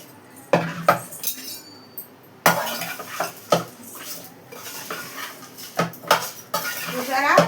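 Spoon clattering against a metal bowl while fish pieces are mixed by hand with turmeric, salt, chili and oil, repeated sharp clinks and scraping strokes close up, with a voice speaking at times.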